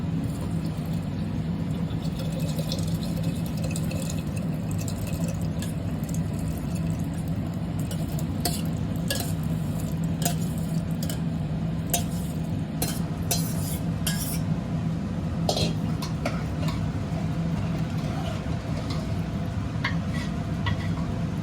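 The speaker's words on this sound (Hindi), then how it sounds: "ये उबले हुए छोले हैं यहाँ पे, तो इनको हम इसमें मिलाते हैं।" Boiled chickpeas stirred into tomato masala in a pan, with a steady scraping and stirring under a constant low rumble, occasional metallic clinks of a spoon against the pan, and no talking.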